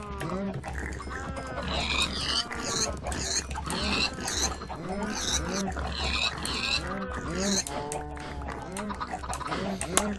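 Pigs in the modded Minecraft world of Sky Factory grunt and oink over and over in a busy, overlapping chorus that stays close and steady throughout.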